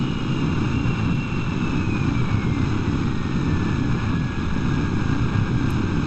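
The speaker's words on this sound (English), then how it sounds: "Alright, let's toggle the engines." Rocket plane engines firing in Kerbal Space Program, a loud, constant droning roar with a faint tone sliding slowly downward, steady throughout.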